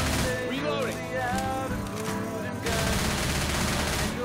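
Rapid bursts of automatic gunfire from the video game Left 4 Dead 2 come in dense volleys, with shots layered over game sound effects and music throughout.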